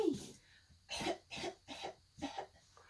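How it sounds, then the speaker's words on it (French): A series of rough coughs, about five in quick succession, close and fairly loud with brief gaps between them. "Il toussait et toussait et toussait."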